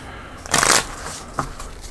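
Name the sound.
shuffling board game cards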